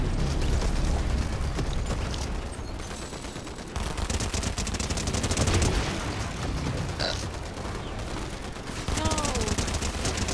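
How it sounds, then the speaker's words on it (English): Rapid bursts of gunfire in a Fortnite live event rattle almost without a break, loud and close, with a player talking over the shooting. "People are shooting me!"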